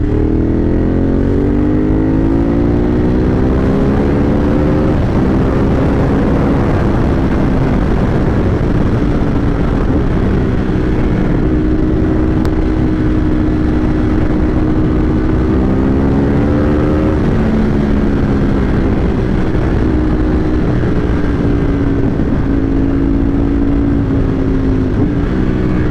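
Motorcycle engine revving close by as the rider shifts down through the gears and brakes hard before a tight first-gear turn, with rising and falling engine pitch steps heard throughout and no talking.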